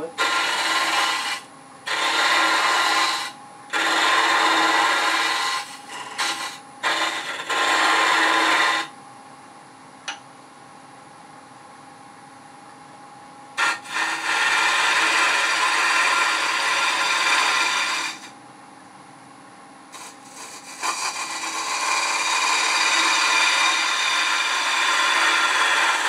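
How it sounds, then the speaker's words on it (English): A woodturning tool hollows the inside of a wooden box spinning on a lathe, giving repeated rasping scraping passes that start and stop, close and loud, with a long quieter stretch in the middle. "for inside hollowing of boxes, especially deep boxes, it just makes such a beautiful cut"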